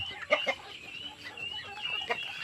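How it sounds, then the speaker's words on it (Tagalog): Chickens cluck softly in a coop, a few short clucks and chirps close by over a quiet background. "yung kulungan ng aming munting mga manok"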